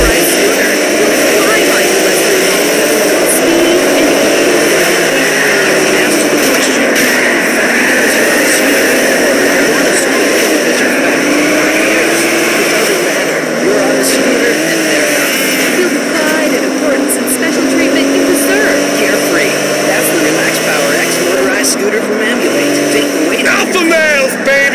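Race cars in Grand Theft Auto roar steadily throughout, their engine drone rising and falling over a constant bed of game sound, loud and continuous.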